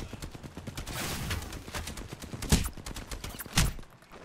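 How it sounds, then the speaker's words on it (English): Gunfire in the Apex Legends video game rattles in a dense, rapid burst of shots with two heavier, louder cracks standing out, all close and continuous through the clip. "finish shooting his gun"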